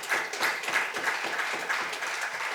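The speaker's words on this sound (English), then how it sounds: "I can see the Lord Mayor clapping." Applause from a crowd at a political gathering where the Lord Mayor is clapping, a steady patter of many hands held at moderate loudness for a few seconds.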